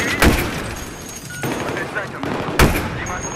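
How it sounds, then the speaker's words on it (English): Gunfire from a sniping fight in the Battlefield 3 campaign: two sharp, loud shots crack out, one early and one near the end, over a steady wash of distant battle noise. "I'm shooting at them."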